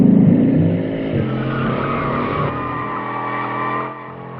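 Bugatti Chiron in handling mode squeals its tires through a skid, a loud rising screech over engine drone that eases and fades toward the end.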